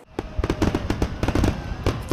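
Rapid series of fireworks bursting nearby, loud crackling pops and booms in quick irregular succession over about two seconds, no talking.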